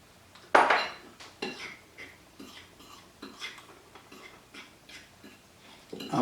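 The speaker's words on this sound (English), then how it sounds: "And just mix that up a little bit." A spoon scrapes and clinks against a bowl while garlic powder seasoning is stirred in, a steady run of close, uneven scraping strokes with a few sharper clanks.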